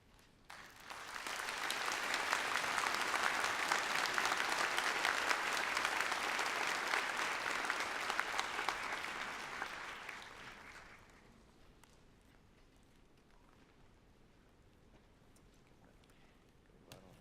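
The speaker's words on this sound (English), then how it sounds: "A big applause." Lecture audience applauding at a commemorative prize lecture, a dense, steady clapping from many hands that swells quickly and holds for about nine seconds before fading to room quiet.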